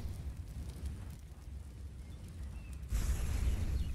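A grenade detonates in Counter-Strike during a professional match at the PGL Major in Krakow: a low, rumbling game soundscape swells into a loud, deep burst about three seconds in that keeps roaring to the end.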